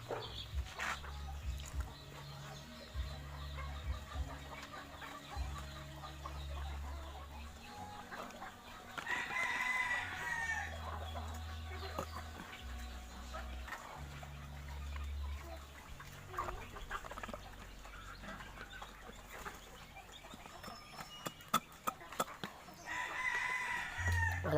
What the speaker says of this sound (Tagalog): nandito kami sa kubo, nagpapakain ng manok